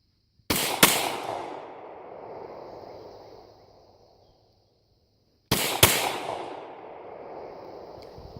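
Glock pistol fired at a shooting range, two loud sharp shots about five seconds apart, each with a quick echoing follow-up crack and a long reverberant tail fading out.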